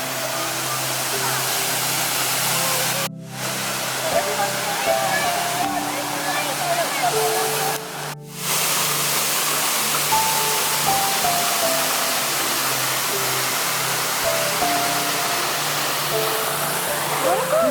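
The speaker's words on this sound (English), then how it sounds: "Waterfall keeps going on forever, right?" A waterfall rushes as a loud, continuous roar of falling water at a campsite, briefly dipping twice, while faint tones sit under the wash.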